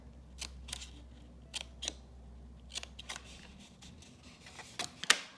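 Scissors snipping out small card pieces for a large greeting card holder, quiet crisp cuts spaced irregularly across the moment at close range, with a sharper snip near the end.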